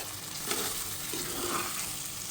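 Egg frying in a pan with rice for egg and tomato fried rice, a steady close sizzle with soft stirring scrapes throughout.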